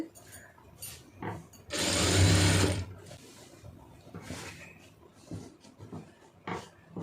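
A sewing machine stitches a fall onto a saree, one loud whirring burst of about a second surrounded by quieter handling noises and light room sound.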